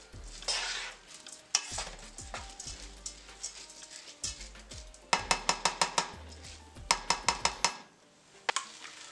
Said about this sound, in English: we're going to turn the rice up and flavor it with all the aromatics